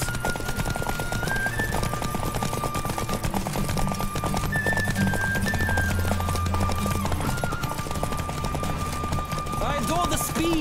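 A horse gallops in The Witcher 3, a dense, rapid run of hoofbeats under a constant bed of game music, with a brief louder flourish near the end.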